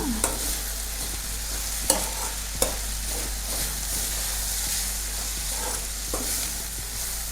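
Arai keerai greens tossed with grated coconut in a stir-fry, with a constant close frying hiss, a low steady hum beneath, and a few spatula taps and scrapes spaced through it.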